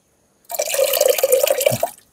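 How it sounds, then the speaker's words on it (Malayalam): Water being poured in for cooking bamboo rice payasam, a steady close stream splashing for about a second and a half before stopping abruptly. "അത് വെള്ളം ഒഴിക്കണം കേട്ടോ."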